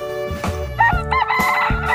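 Close chicken sounds: harmonic clucks and a rooster's crowing call, repeated several times in quick succession.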